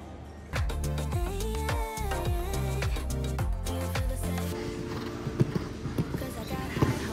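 Horse hooves clip-clop in a steady rhythm, close and clear, at a show jumping competition, CHIO Rotterdam, while a voice talks over them and a crowd murmurs in the background.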